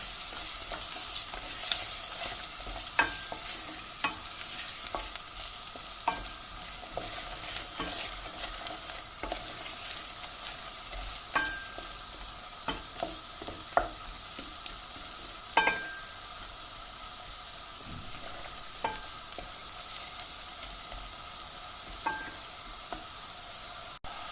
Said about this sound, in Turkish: Bu aşamada ununu, tuz ve karabiberi de ilave ederek bunun kokusu çıkana dek kavuracağım.